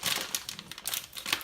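A 500-gram food bag crinkles as it is opened, a burst of close, sharp, papery rustling that continues without talk.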